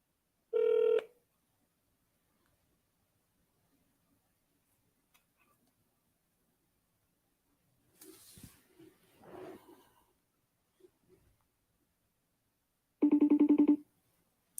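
A telephone call rings out unanswered: two short, loud bursts of electronic ringing tone far apart, with faint murmured talk in the quiet stretch between them.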